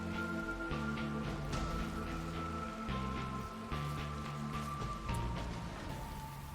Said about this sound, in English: It has been raining for 5 straight days